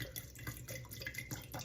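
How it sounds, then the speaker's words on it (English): White balsamic vinegar pours into a jar for a salad dressing, a steady close-up liquid trickle that runs unbroken for under two seconds with no talk over it. "First thing that's going in is some white balsamic vinegar."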